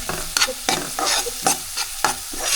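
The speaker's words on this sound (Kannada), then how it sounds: "ಚೆನ್ನಾಗಿ ಫ್ರೈ ಮಾಡಬೇಕು." Garlic fries in oil in a pan for black sauce pasta, with a constant sizzle under rhythmic scraping stir strokes, about four per second, close and fairly loud.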